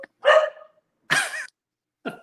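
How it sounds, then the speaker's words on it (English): A dog barks three times in short, separated bursts, fairly close and loud, with silence between each bark. "my dog's barking"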